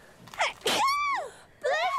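A sudden sneeze bursts out with a sharp breathy onset, followed by high, tonal vocal sounds from nearby people in a casual indoor setting.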